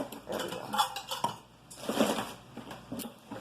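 Pots, pans and measuring cups clink and clatter in irregular bursts as someone rummages through a kitchen for a saucepan, heard up close with a few muffled knocks.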